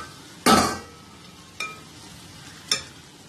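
A spoon scrapes and stirs through a capsicum fry with ginger garlic paste and onions in a pan, giving three separate stirring strokes over a faint steady sizzle.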